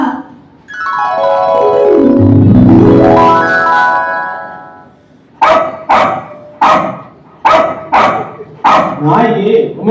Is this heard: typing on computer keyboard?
no